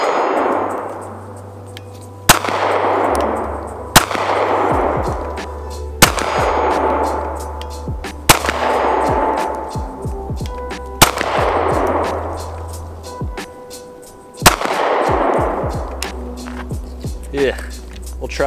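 Walther PPS M2 pistol fired at a target about 30 yards away: seven sharp, loud reports at irregular intervals of a few seconds, each followed by a ringing metallic clang from the distant steel target, with a low hum beneath.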